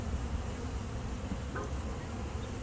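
Steady, dense buzzing of many feral honeybees, continuous and fairly close, with no voices.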